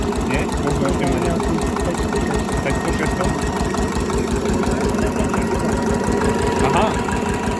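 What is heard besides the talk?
Slavia 8hp stationary diesel engine idling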